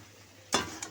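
Potatoes drop into a hot frying pan for a Bengali aloor dum and erupt in a loud, sudden burst of sizzling halfway through, with a second short hiss of stirring just after, all up close.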